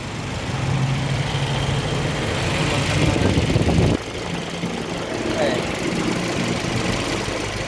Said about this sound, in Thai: อันนี้เราสตาร์ทเครื่องเติมยาแล้ว